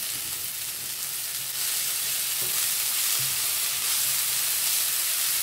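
Mutton lamb mince mixture fries in a non-stick pan for a Malabar meat cake, a steady broadband sizzle with occasional soft stirring scrapes, close and continuous throughout.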